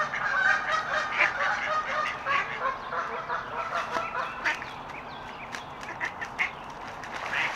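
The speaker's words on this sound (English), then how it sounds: "And you can hear the sounds of other waterfowl." Waterfowl honk and quack continuously, a busy overlapping chorus of calls from several birds, fairly loud and close.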